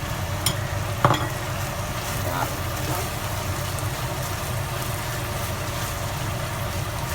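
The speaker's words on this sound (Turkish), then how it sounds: "Biraz soğanımız böyle kavrulacak." Onions frying in olive oil in a pan for karnıyarık, a steady dense sizzle with a few spoon clinks near the start, constant and close.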